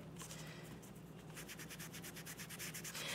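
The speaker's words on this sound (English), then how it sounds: "It's also working if you're just kind of rubbing like this." An ink pad is rubbed over a shirt through a freezer-paper stencil, making a faint, rhythmic scratchy rubbing with quick repeated back-and-forth strokes over a low hum.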